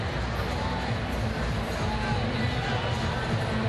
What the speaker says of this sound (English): You can hear them reacting to the scoreboard.